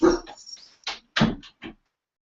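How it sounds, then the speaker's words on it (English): Dog in a room during an online cyber forensics workshop, giving several short, loud, close barks and yips in an uneven burst, then falling quiet. "Sorry, I gotta let the dog out again."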